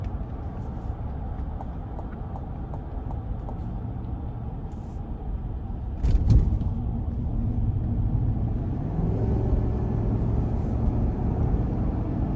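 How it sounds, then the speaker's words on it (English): A 2021 GMC Yukon Denali with a 6.2 liter engine and 10-speed transmission accelerates onto an interstate, heard from inside as a steady low cabin rumble that swells slightly partway through, with no talking. "I'm gonna give it a little throttle getting on the interstate here."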